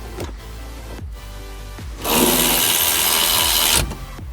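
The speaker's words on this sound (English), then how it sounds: "Now I'm going to use my 16 and my Milwaukee electric ratchet." Milwaukee electric ratchet with a 16 socket on a brake bolt of a BMW E82 135i, short mechanical clicks followed by a nearly two-second burst of buzzing motor whir, close and loud.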